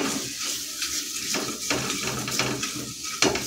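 Kashmiri chili powder fries in hot oil in a pan for a Hyderabadi mixed dal tadka, a soft crackling sizzle broken by scraping stirs of a spoon against the pan, close and unaccompanied by talk.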